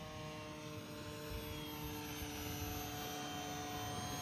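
A small 516 g Jabberwocky RC airplane on a 3-cell battery makes a low pass with its flaps up, giving a faint, steady motor and propeller drone with no change in pitch.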